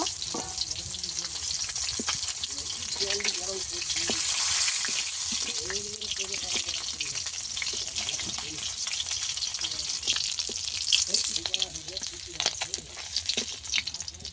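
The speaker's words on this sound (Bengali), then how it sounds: "মাছটা একটু লাল লাল করে ভেজে নিতে হবে" Pond fish fries in hot oil until reddish and crisp, giving a steady loud sizzle with crackling pops that runs throughout, while someone speaks quietly over it.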